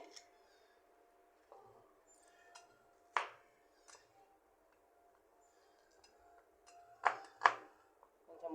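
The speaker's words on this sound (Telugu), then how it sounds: "చిన్న ముక్కలు చేస్తున్నానండి" Garlic being chopped into small pieces on a board in a home kitchen while preparing a dried-prawn chutney, a few sparse, quiet knife taps spread out over a faint steady hum, with a couple of sharper, closer strikes near the end.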